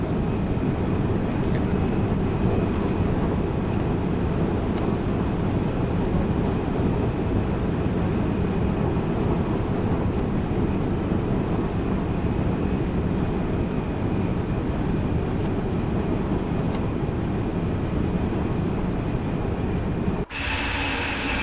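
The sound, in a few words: quiet train passing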